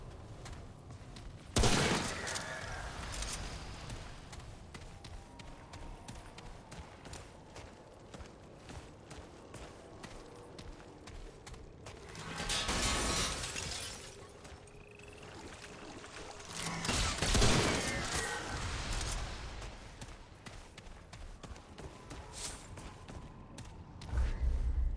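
Enemy gunfire in Remnant: From the Ashes, a steady crackle of scattered distant shots running throughout, with a few louder swelling bursts standing out.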